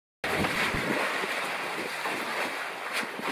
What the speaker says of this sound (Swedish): Så här ser det ut i Rota när det blåser från sydost.